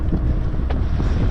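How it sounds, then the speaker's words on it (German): Strong wind blows across an exposed summer dike, rumbling steadily and loudly into the microphone with gusty low buffeting throughout and no voices. "Herrlich windexponiert hier oben auf diesem Sommerdeich mit schöner Aussicht rechts und links"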